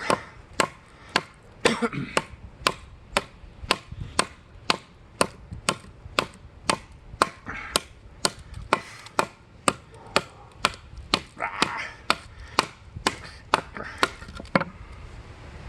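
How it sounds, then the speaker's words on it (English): A Cold Steel SR1 Lite knife with a tanto edge chops into wood outdoors in a long steady series of sharp, close, evenly spaced impacts, roughly two per second, with no talk over them. "I'll keep chopping just to show you."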